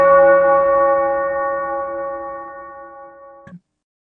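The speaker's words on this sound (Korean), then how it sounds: "또다시 종소리가 울렸습니다." One deep struck bell rings out with a clear, sustained tone that slowly fades over about three seconds before a short thump ends it.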